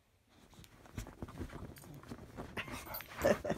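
A dog named Freya digs at a bed, giving a run of scratchy, scrabbling strokes in an uneven rhythm that grow louder toward the end, close by, with no voices.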